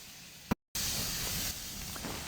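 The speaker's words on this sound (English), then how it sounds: "Look at the steam underneath, above the valve." Steam hisses from beneath an Ooty steam locomotive, a vintage engine with vapor venting around the valve, a steady broadband rush lasting about two seconds with a brief dropout after a sharp pop, fairly close and with no talk.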